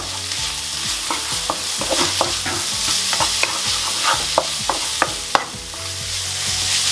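Roasted tomato soup heating in a pan, with a steady bubbling sizzle and frequent sharp spoon scrapes and knocks against the pan, close and fairly loud, with no talk.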